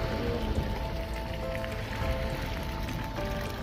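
Heavy rain falling steadily in Jamaica, a dense, constant hiss of drops hitting surfaces up close, with no talk.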